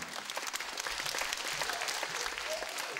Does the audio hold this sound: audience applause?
yes